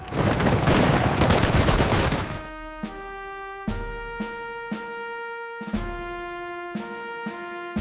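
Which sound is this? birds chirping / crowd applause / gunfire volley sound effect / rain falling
gunfire volley sound effect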